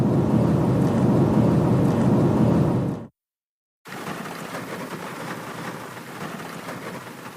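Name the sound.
heavy rain falling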